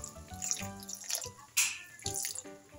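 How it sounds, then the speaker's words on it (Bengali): A little water poured into simmering tomato chutney makes close splashing and gurgling sounds with short bursts of pouring and drips, irregular and moderately quiet, no voices. "আমি অল্প একটু জল মিশাবো"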